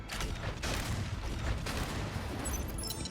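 Mech gunfire in the MechArashi video game, a dense continuous barrage of shots and booms filling the whole moment, loud and close with no pauses.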